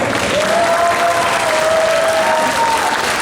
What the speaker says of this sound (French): Les applaudir bien fort.